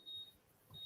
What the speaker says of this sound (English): That's my alarm going off, by the way. It's my dishwasher.